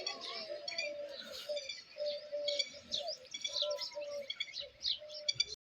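Sparrows chirp in quick repeated bursts, fairly close, while a low cooing or voice-like tone runs intermittently underneath.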